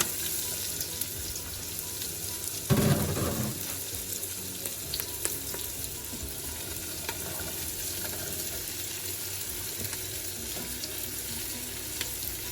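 Onions sizzle in a pot as the base for white bean turkey chili, a steady close hiss with crackles and a brief louder stir or clatter early on, no voices over it.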